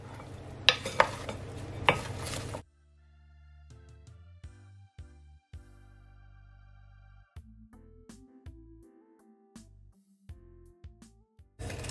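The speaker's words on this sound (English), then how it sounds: "Gonna mix it in." A spiced mushroom mixture being stirred in a pot or pan, a few loud scraping strokes at first and then quieter intermittent clinks and scrapes, with no talking.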